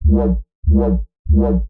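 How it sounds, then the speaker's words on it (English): Three identical deep, buzzy bass stabs with evenly spaced gaps, a drum and bass style bassline played loud and upfront. "Now this bass is popular in a lot of drum and bass records and it sounds like this."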